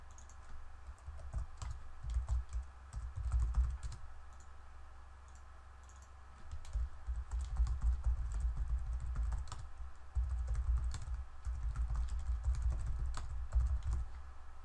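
Credit card details being entered on a computer keyboard, a quiet steady patter of keystrokes in uneven bursts, close and alone with no talk.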